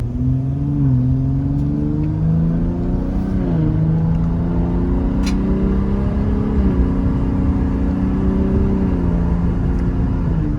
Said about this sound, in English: there's another little acceleration for you